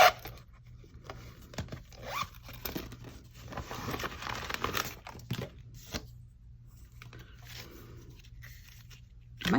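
Hands rummage through an envelope of paper ephemera for a junk journal, giving soft, close rustling, crinkling and sliding paper sounds in irregular bursts with brief quiet gaps.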